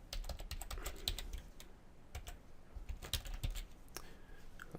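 Code being typed on a computer keyboard, a steady patter of close, crisp keystrokes with irregular rhythm and occasional heavier clacks, no voices.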